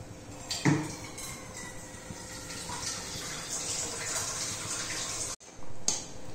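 Water poured into a pan of pumpkin and tomato gotsu as it cooks, a steady splashing gush lasting several seconds with a brief break near the end and no talk.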